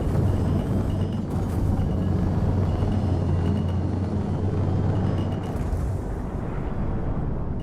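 A jet afterburner in a video game roars continuously, a loud, broad, rumbling blast with heavy low-end that holds steady for several seconds before easing slightly near the end.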